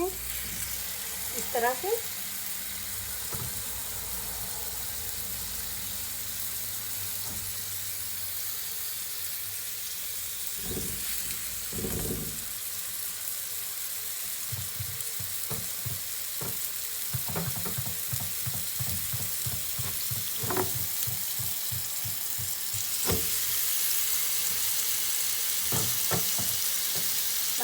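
Chapli kababs sizzle and fry in a pan, a steady hiss throughout with clicks and rattling scrapes of handling, and a brief spoken phrase early on.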